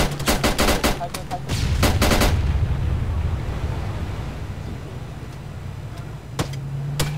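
Automatic weapon fire in Arma 3: a quick string of loud, sharp shots, then a long rumbling roar of sustained fire that fades, with a few isolated shots near the end.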